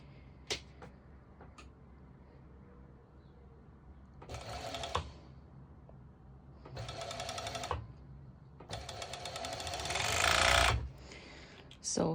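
A sewing machine stitches bikini bottom fabric in three bursts of rapid, whirring mechanical chatter that grow longer each time, separated by quiet gaps with faint handling noises.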